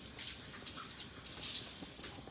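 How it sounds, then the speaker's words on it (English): Tap water runs steadily over hands rinsing under a kitchen faucet, a close, continuous splashing hiss with small shifts as the hands move through the stream. "Let me rinse my hands off"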